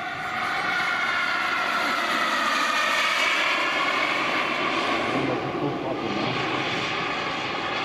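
A 1:7.5 scale Feibao Dassault Rafale RC jet powered by a JetLegend T-12 turbine flies past: a loud, steady turbine whine and roar that holds throughout, swelling slightly midway as the model passes.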